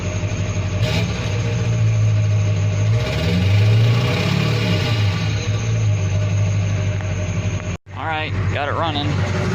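A Duramax diesel truck engine runs steadily up close, a low idle rumble with a brief dropout near the end followed by a short burst of talking.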